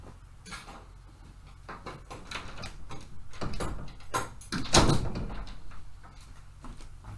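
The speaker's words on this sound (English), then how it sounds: "I'm going to shut the door" A household door is pushed shut amid clattering and knocking, with a series of rattles and thumps building to one loud bang near the middle before the noise settles.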